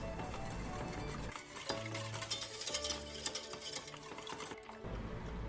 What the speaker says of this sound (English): Add 1 cup whole milk, give it a nice mix until everything is combined.